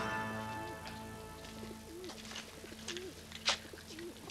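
A pigeon coos softly in a repeated, wavering rhythm, a few throaty calls rising and falling at moderate distance over a quiet background with a light clatter near the end.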